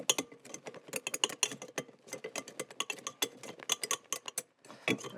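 A whisk beats through a mixture to lighten it, making rapid, close clicking and scraping strokes in uneven bursts with short pauses, and no one talks.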